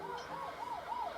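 Ambulance siren from a Superman film, a wailing tone that rises and falls in smooth repeating sweeps, steady and fairly prominent, with no speech over it.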